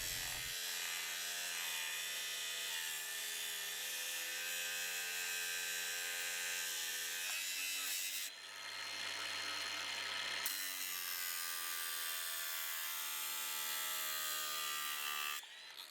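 A RIDGID 18V Octane brushless 7-inch grinder cuts through half-inch lag bolts. A loud, continuous high-pitched metal-cutting whine holds for the whole stretch and shifts in tone midway as the load changes.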